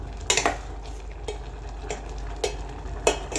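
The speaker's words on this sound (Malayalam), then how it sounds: "നല്ല പോലെ ഒന്ന് ഇളക്കി കൂട്ടി നമുക്കൊന്ന് നമ്മുടെ കറീനെ ഒന്ന് വറ്റിച്ചെടുക്കാം" A thick Kerala curry being stirred in a pan, with intermittent scraping spoon clicks against the metal over a steady low simmering sizzle, close and moderately quiet, no talking.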